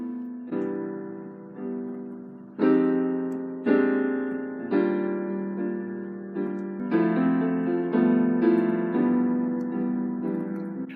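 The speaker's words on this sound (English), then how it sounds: "Here's the sound of the 2-5-1 progression played with rootless chords." Piano plays a slow 2-5-1 progression of mellow rootless jazz chords, each struck and left to ring and decay, moderately quiet with no voices.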